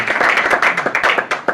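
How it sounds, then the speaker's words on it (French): A few people clapping at a business seminar, a quick run of sharp, uneven individual claps close by, loosening into scattered slower hits near the end. "Applaudissez"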